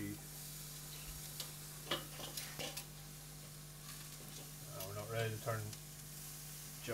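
Peppers blister and sear over barbecue coals, giving a steady soft sizzle with occasional ticks and a few faint clatters. Heard close, with a brief voice near the end.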